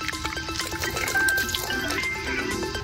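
Water poured into a fish masala, the spice paste for a rock fish stuffed with meal maker biryani: a close, steady splashing trickle with small drips, running continuously.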